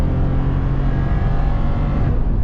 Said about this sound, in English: it sounds like the engine's gonna explode